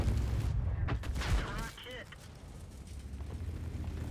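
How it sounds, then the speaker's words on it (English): Booming artillery in a tank battle video game: a few heavy blasts in the first second and a half, then a rumbling low din with scattered distant impacts, with speech faintly in the background. "Nice artillery, my beloved."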